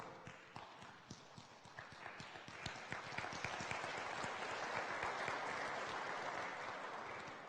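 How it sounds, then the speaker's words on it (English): A crowd at a university fall convocation applauds steadily, the clapping swelling into a dense, sustained roar that holds to the end. "In absentia, we're applauding for Vic"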